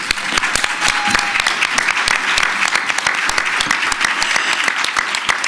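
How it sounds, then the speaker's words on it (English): A conference audience at a media diversity summit gives sustained applause for Representative Val Demings, dense and steady clapping throughout, with a faint voice beneath. "give a hand clap of appreciation for Representative Val Demings"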